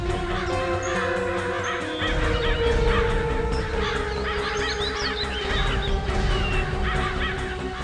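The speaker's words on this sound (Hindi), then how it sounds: "बहुत सारे कौवे भी मंडरा रहे हैं" A large group of crows circles over water near a drain, their caws overlapping continuously against a loud, dense background rumble, with no talking.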